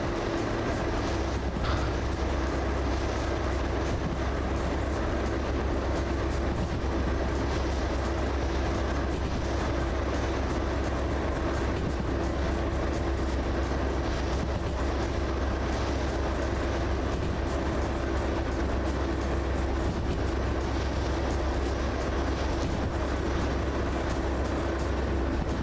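Vectron electric locomotive running and coasting in the Derail Valley railway video game, a steady, unbroken mechanical hum and rolling rumble with a constant tonal whine, holding level throughout without voices.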